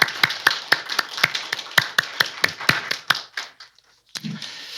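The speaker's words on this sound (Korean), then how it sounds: "이 시간에 같이 우리 박수로 우리 환영하시도록 하겠습니다" Church congregation at a Korean Sunday worship service applauds to welcome newcomers, a brisk, fairly even run of sharp claps close by that thins out and stops, followed by a brief low thump.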